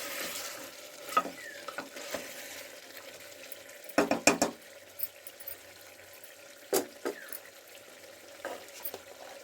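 Beef sautéing down in a pan for biryani, a steady close sizzle broken by bursts of clattering stirring and spoon scrapes against the pan, no talk.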